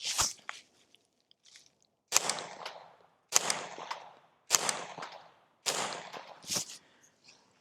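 A .22 rifle fitted with a PipSqueak suppressor fires five sharp, close pops, spaced roughly a second apart, each trailing off in a short fading tail, with near silence between shots.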